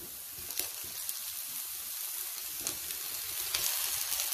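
Wild mushrooms fry in a pan with ginger garlic paste in a village-style kitchen, giving a steady soft sizzle and hiss with faint stirring scrapes and no voices.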